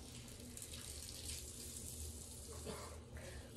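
Water runs steadily as a toilet slowly fills after a failed plumbing repair, a continuous faucet-like hiss and gurgle at moderate level with no pauses.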